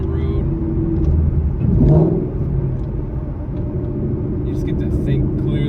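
A Mustang cruises along empty late-night streets with a steady low engine rumble and a slight swell of revving partway through, heard from inside the car.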